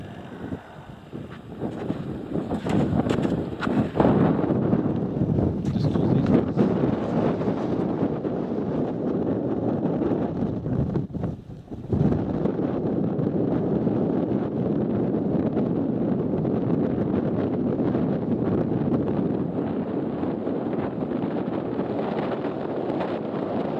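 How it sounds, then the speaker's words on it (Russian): Strong wind blows steadily across the microphone during a windy fishing outing by water, a loud continuous broadband roar with gusty surges and a brief lull near the middle. "Ну какой ветер."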